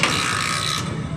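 Kickstarter on a Honda Supremo motorcycle being kicked once, a dense mechanical ratcheting clatter that runs steadily for about a second, close and fairly loud, with no voices.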